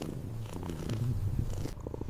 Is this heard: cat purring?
yes